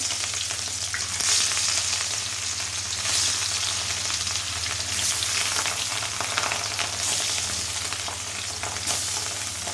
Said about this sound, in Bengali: এখন আমি মাছটা সুন্দর করে লাল লাল করে ভেজে নিব